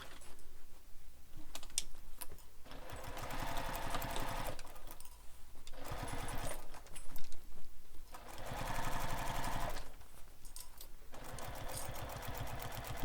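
A sewing machine stitches a bowler bag's exterior seam in several sustained runs, its rapid needle rhythm continuous with short pauses between bursts, close and clear with no talk.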